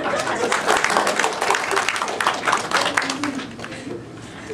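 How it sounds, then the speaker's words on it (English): An audience clapping loudly in a room, a dense burst of applause with audible individual hand claps and some voices mixed in, fading gradually toward the end. "Yeah, can we clap for sir, please?"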